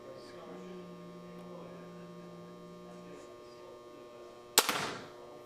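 A Centerpoint Wrath 430 crank crossbow with an illuminated scope fires once: a single sharp, fairly quiet snap with a short rattling decay, rising out of a steady electrical hum.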